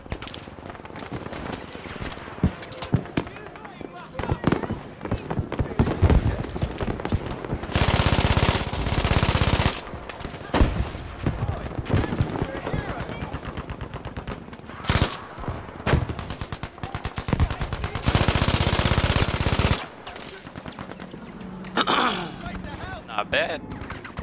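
MG42 machine gun in Battlefield V firing long sustained bursts, loud and close, two heavy stretches of dense rapid fire separated by shorter clattering shots and scattered battlefield noise.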